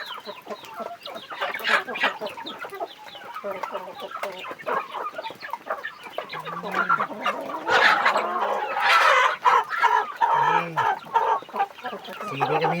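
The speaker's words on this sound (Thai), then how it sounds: "นี่ไก่เมฆตีทุกคนเลย" Several chickens cluck and chatter near a cloud-colored gamecock on a farm plot. Busy overlapping clucks run throughout, growing louder toward the end, with a few short crowing-like calls standing out.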